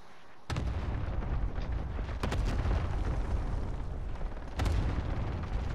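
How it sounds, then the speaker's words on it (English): Airstrike explosions in a video game arrive as heavy booming blasts over a continuous loud rumble, with sharp strikes near the start, in the middle and near the end, and no voices. "we're getting airstrikes"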